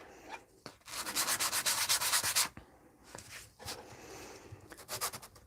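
Sandpaper scrapes a hobby miniature in quick back-and-forth strokes, a close, raspy rubbing in two loud bursts separated by brief pauses.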